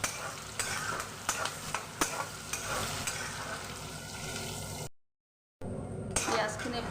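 Onions fry in a pan with a steady bright sizzle, broken by repeated scraping stirs and clicks of a utensil, before a brief cutout and the sizzle resumes.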